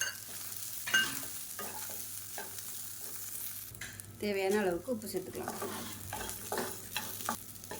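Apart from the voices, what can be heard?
sautéing curry leaves and grated coconut in a pan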